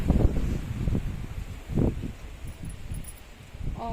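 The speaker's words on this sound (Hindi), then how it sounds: "हवा देखो, ऐसे आंधी जैसे हवा चल रही है" Strong gusty wind sweeps through trees outdoors, a loud continuous rushing and rustling of leaves with surging gusts and no talk.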